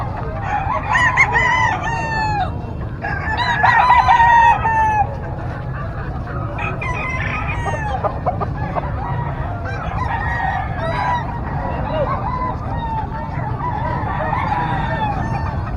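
Fighting roosters crow repeatedly at a Saturday pet market in San Carlos City, Pangasinan, several calls overlapping, with clucking fowl and a steady low rumble of background noise throughout.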